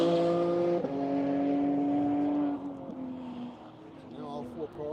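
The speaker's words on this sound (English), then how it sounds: "Now all 4 cars are circulating on their final lap." Race cars circulating on a track on a session's final lap make a loud, steady engine drone that shifts in pitch as they pass, fading somewhat toward the end, with no talk over it.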